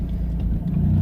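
Mustang Twin Turbo, lowered on new coilovers, rolling slowly into a home driveway with a steady, close low engine rumble and no voices.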